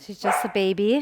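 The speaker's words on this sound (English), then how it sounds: "excuse the barking" A puppy named Tadi gives a couple of short, high yips and barks close by, with a voice speaking over and between them.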